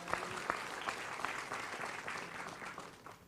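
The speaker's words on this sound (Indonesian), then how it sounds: "Tepuk tangan buat Tuhan." A church congregation claps together at a Christmas celebration, a dense, even round of applause with a few sharper claps standing out, sustained throughout at moderate loudness.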